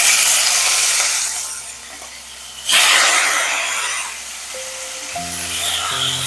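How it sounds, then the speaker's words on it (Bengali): Prawns dropped into hot oil already used for frying potatoes, a sharp hiss bursting loudly then settling into a softer sizzle, with a few clinks of utensils near the end. "এই একই তেলে এবারে ভেজে নেব চিংড়ি মাছ"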